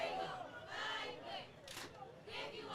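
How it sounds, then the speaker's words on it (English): A high school cheer squad cheers at a junior varsity football game from just below a stadium booth. Shouted group chants rise and fall at moderate distance, with crowd chatter around them. "If you can hear that, that is the Chula Vista cheer squad just below us."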